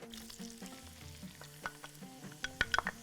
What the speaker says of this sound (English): So we're going to put the onion